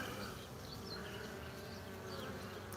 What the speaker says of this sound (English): bees coming out